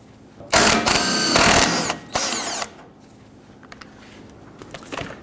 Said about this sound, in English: I want to go ahead and loosen and remove the 15mm nut. I'm going to use a deep socket to do so.